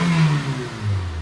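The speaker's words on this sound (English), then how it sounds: "Give it a little rev." A 1998 Nissan Sentra's engine is revved once. The pitch rises, then drops back, and a second swell follows within about a second. It sounds close and fairly loud, with no voices.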